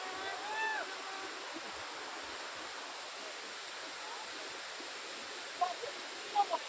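A waterfall in a Wayanad forest gives off a steady, faint broadband rush that holds evenly throughout. A few small knocks break in near the end.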